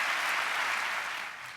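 A conference audience breaks into loud, dense clapping that fills the room, then gradually tapers off over a couple of seconds.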